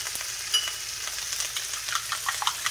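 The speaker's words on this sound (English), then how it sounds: "cook some egg here" Two beaten eggs frying in a hot pan for duck fried rice, a steady bright sizzle with small crackles throughout, alone without voices.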